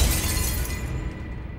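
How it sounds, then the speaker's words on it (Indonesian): A glass and crockery breaking effect: one sharp shattering crash that quickly fades into a tinkling tail, heard alone. "Tiba-tiba terdengar suara seperti benda pecah belah."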